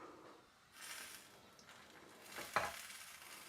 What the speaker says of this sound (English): Just listening to that because that's sizzling quite a lot.